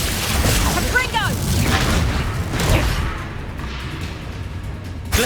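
A Confringo explosion spell goes off in the Hogwarts Legacy video game: heavy booms and rumbling blasts amid combat noise, with a sharp whistling sweep early on and a voice calling out over the fight.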